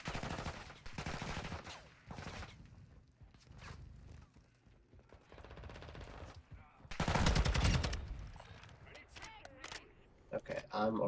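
Gunfire erupts close by in a video game, bursts of rapid shots and single cracks scattered across the moment, with a loud cluster midway and people talking over it.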